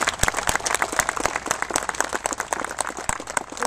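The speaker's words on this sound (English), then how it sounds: "let's have a round of applause" A crowd of attendees at a fishing rally applauds, many hands clapping in a brisk, dense burst heard fairly close for a few seconds.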